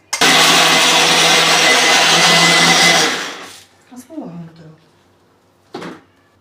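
Mixer grinder blending grated coconut and jaggery for a traditional Kerala snack, a loud continuous whirring burst of about three seconds that stops abruptly, followed by brief quieter rattles and speech.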